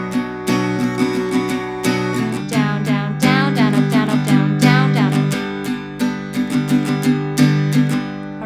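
Acoustic guitar strumming the chords of a song at full song tempo, a steady driving rhythm of bright, ringing downstrokes and upstrokes played close and loud without any talking.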